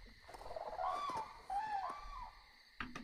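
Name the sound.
birds calling outdoors at night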